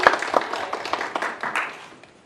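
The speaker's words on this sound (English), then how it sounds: "I didn't expect a round of applause." Audience applause at an academic writing panel, a dense patter of many hands clapping steadily for about two seconds before thinning out near the end.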